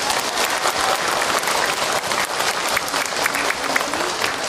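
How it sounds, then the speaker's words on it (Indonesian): A seminar audience claps steadily and loudly for several seconds after an answer in an Islamic talk, dense even applause with faint crowd murmur beneath. "Tepuk tangan buat Ahilman untuk jawabannya."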